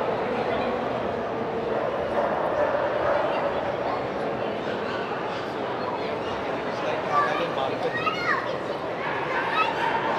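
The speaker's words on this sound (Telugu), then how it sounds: "so golden retriever," Golden retriever and other dogs bark and yip at a crowded indoor dog show, with children and people chattering throughout and a busy hall murmur underneath.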